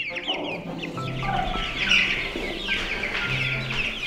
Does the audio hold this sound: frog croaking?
no